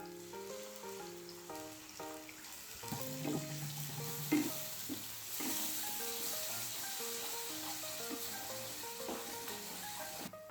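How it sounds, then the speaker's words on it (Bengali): Spice paste of turmeric, Kashmiri chili powder and a little sugar cooks with a splash of water for paneer chana masala. The sizzle is soft and hissing, with occasional stirring scrapes, and faint music plays underneath. "অল্প জল দিয়ে ভালো করে মশলাটা কষিয়ে নেব।"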